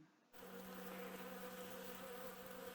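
Bees buzz steadily and continuously at close range among garden flowers, a constant droning hum with no voices.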